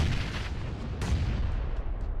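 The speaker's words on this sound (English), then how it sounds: "I can't tell if that was one of their own nades that went haywire or if that was a counter nade from Squad 3" Grenade blast in a PUBG tournament match: a dense, rumbling low boom rolls through the whole moment, with a sharper crack just after the midpoint, loud and close with no voices.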